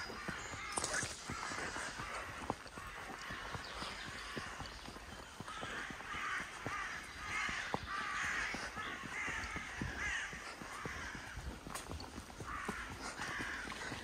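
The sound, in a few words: crows cawing near a farm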